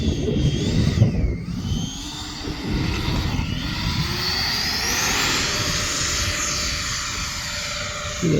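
An electric ducted fan RC model jet, a YF-17 Cobra built from Depron, flies past with a continuous high-pitched whine and rushing roar whose pitch shifts as it passes and climbs away.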